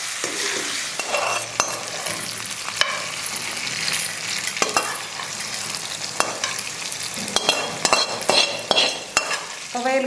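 Pirandai, ginger, dried red chillies and green chillies roast in a pan for a South Indian chutney, a bright continuous sizzle broken by repeated scraping strokes of a spatula, close and fairly loud, with no voices.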